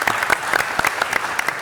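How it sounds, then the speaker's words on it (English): A round of applause fills City Council chambers in Los Angeles, a steady patter of many hands clapping close by and fairly loud, continuous across the moment without speech over it. "If we please welcome them with a round of applause"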